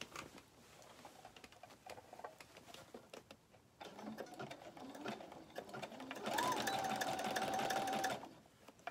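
A sewing machine stitches a ribbon skirt, a fast mechanical whirring run that swells loud near the end, preceded by quieter handling and intermittent stitching sounds.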